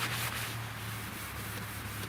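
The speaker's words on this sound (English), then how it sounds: "all I'm doing is scuffing this clear, because I'm doing a blend on this" Abrasive pad scuffing the clear coat on a Buick bumper before a blend, a soft continuous rubbing hiss under a low steady hum, with no talk.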